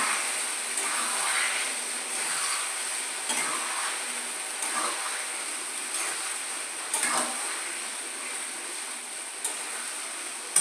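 Ash gourd stirred in a pan with a spice tempering: a continuous hiss of frying broken by repeated scraping strokes of a utensil against the pan, close and fairly loud, with no voices.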